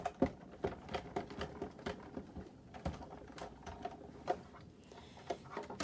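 A die cutting machine cranks a sunflower die through in a steady run of quick clicking, ratcheting knocks, fairly faint and close, with no voices.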